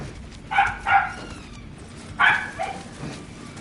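A dog barking and yipping at a squeaky toy, four short close yips in two pairs, with no talk.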